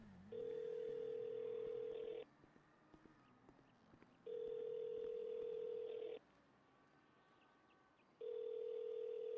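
A telephone call rings out with three long ringback tones evenly spaced about two seconds apart, each steady and fairly clear, separated by quiet pauses with faint clicks.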